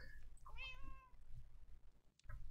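A cat gives a clear, drawn-out meow with a rising then falling pitch, heard alone at moderate distance, followed by a short second cry near the end.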